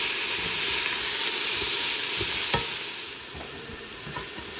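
Mixed vegetables and browned chorizo sautéing in a soup pot, a steady close sizzle and hiss with repeated stirring scrapes and clinks, easing slightly in level partway through, with no speech.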